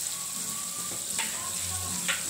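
Spice masala sizzles and fries in a pan while being stirred, a steady low crackle with a couple of brief scraping strokes, close and continuous throughout.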